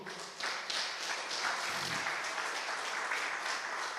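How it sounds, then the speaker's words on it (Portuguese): Church congregation applauding during a Portuguese-language sermon, a steady wash of many hands clapping that swells after the first half second and holds loud and even throughout. "Vamos aplaudir o Senhor?"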